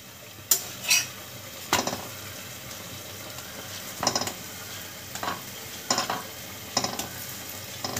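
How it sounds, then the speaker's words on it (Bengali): Chicken chap fries on a hot tawa with a steady soft sizzle, broken by several sharp clinks and scrapes of a utensil against the pan at irregular intervals. "এদিকে দেখুন চাপটা ভাজা হচ্ছে।"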